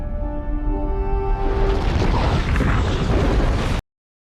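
Volcano erupting in a dinosaur film, a loud, dense, roaring rumble of explosive bursts filling the scene, with a brief tonal whine at the start, then sustained blasting noise that cuts off abruptly.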